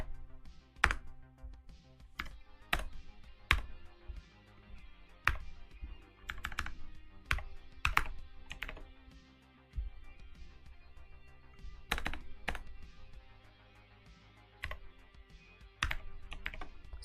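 Typing on a computer keyboard, nearby and fairly quiet, irregular bursts of sharp key clicks and taps with brief pauses between them.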